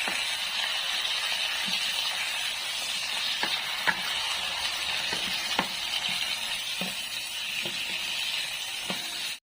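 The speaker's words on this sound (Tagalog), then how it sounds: "Ayan guys, kumukulo na." A pot of galunggong fish broth with tomato bubbles and sizzles steadily up close, with a few soft clinks and scrapes scattered through the steady hiss.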